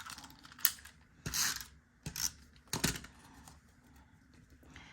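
A new adhesive refill snaps into a tape runner while a family photo album is assembled: a few sharp plastic clicks and short rattling snaps in separate bursts, close and fairly quiet.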